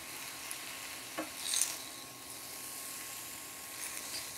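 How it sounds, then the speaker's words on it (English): Leafy greens are gently stirred and sautéed in a frying pan, giving a soft continuous sizzle with a brief scrape of the utensil midway, quiet and without talk. "just keep moving them around gently. You don't want to smash them"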